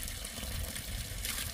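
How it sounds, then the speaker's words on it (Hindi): A mountain stream in the forested hills flows with a steady broadband rush. The water is faint and continuous, with no voices over it. "यहाँ पर एक धारा भी है और यहाँ का पानी तो हमेशा ठंडा ही रहता है"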